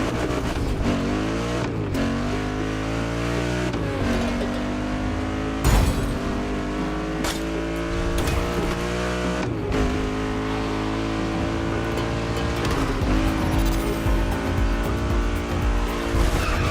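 Engine of a Mustang Boss 429 in the racing video game The Crew Motorfest, roaring loudly with repeated rising revs through gear shifts, tire squeals and skids, no talk.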